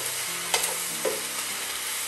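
Beans and capsicum being stir-fried in a wok for a flathead fish stir fry: a steady, close sizzle with a couple of brief scraping clinks as the vegetables are tossed, and no voices.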